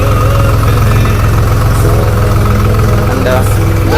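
A tractor engine runs in a farm field. It makes a loud, close, steady low chugging rumble with a rhythmic throb that holds throughout.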